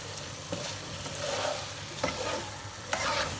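Chicken kebabs in masala being stirred in a pot, a quiet steady sizzle broken by three or four distinct scraping strokes of a spoon, heard close with no talking.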